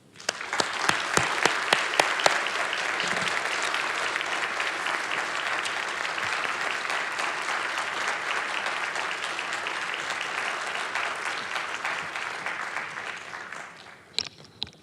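An audience at a lecture on 1970s global performance art applauds to welcome speaker Kellie Jones, steady sustained clapping for about fourteen seconds that tapers off near the end.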